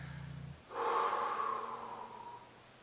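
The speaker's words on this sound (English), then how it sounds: "you can hear me breathing in, but it doesn't sound like I'm suffocating" A deep exhale followed by a long, slow inhale during singing breath practice, close and quiet, with no talking.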